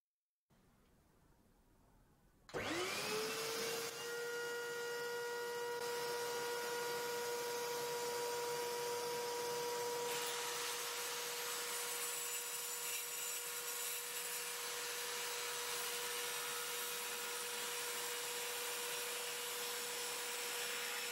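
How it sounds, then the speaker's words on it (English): A Skil 5330 AB multisaw spins up after a quiet start, then cuts steadily through 18mm plywood along a parallel guide with dust extraction running, a loud sustained motor whine and cutting roar throughout. "I'm going to show you the saw in action on 18mm plywood using the parallel guide."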